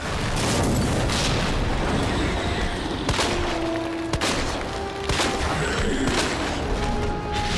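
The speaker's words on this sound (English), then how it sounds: "Let's use a hand grenade right here." A hand grenade detonates in the Resident Evil 2 video game amid dense, loud, continuous game noise with several sharp cracks and crashes scattered through it, close and with no talk.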